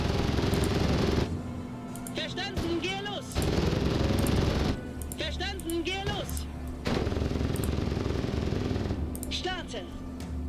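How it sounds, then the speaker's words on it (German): Enemy gunfire in Crossfire: Legion, loud bursts of automatic fire several seconds long separated by quieter gaps. Voices and other game sounds come through between the bursts. "Wer hat uns denn gerade beschossen?"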